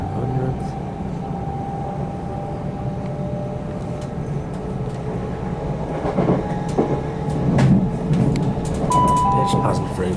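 A Thameslink Class 700 train runs on the rails near Three Bridges toward Gatwick Airport, with a steady low rumble, a whining tone and scattered clicks and rattles from the wheels, rising slightly toward the end.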